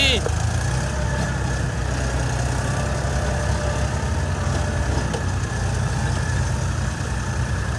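A tractor engine runs at a soil-levelling job at Dera Baba Nanak, a loud, steady low diesel rumble filling the whole stretch while people talk over it.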